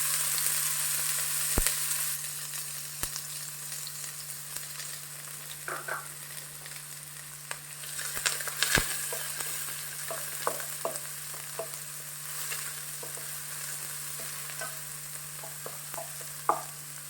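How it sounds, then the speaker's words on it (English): Onions saute in hot oil in a pan for Goan green beef curry, a continuous close sizzle with occasional scrapes and clinks of stirring, a low steady hum underneath and no talking. "I'm going to add oil in order to saute the onion"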